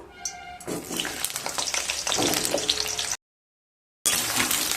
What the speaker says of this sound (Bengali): এবার পটলগুলোকে ভেজে নেব।